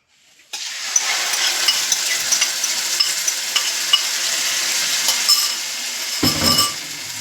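A steady, fairly loud sizzle starts abruptly as onion and tomato paste cooks in a pan, with occasional clinks from stirring and a heavier scraping stir near the end; no talking.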